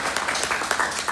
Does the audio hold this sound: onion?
no